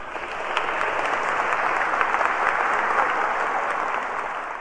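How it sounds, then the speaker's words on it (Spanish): A Catholic church audience applauds together in a sustained, dense round of clapping that holds steady for several seconds, with no voices over it. "Démosle un aplauso al Señor."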